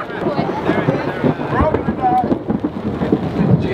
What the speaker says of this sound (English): let's hope this storm just passes